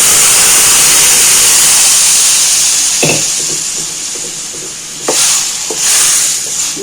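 Cooked bottle gourd and lentils hit a hot tempering in the pan, giving a loud, continuous sizzle and hiss, with a few clanks and stirring bursts toward the end.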